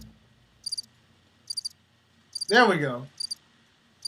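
Short bursts of cricket chirps pulse at regular intervals, used as a comedic silence effect, with someone briefly speaking over them midway.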